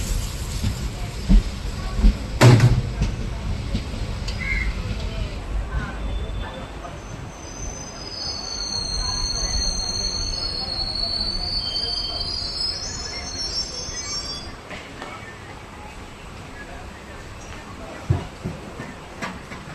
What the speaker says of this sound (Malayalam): കണ്ണൂർ റെയിൽവേ സ്റ്റേഷൻ്റെ 2ാമത്തെ പ്ലാറ്റ്ഫോമിലേക്കാണ് നമ്മുടെ ട്രെയിൻ ഇപ്പോൾ ഇതാ എത്തിക്കൊണ്ടിരിക്കുന്നത്.